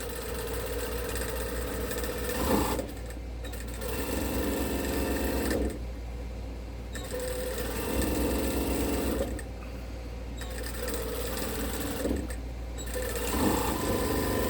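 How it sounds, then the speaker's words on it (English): A sewing machine stitches a Christmas stocking in several bursts of steady, rapid mechanical whirring, close and loud, separated by short pauses with no talk. "And we're going to sew all the way to the top."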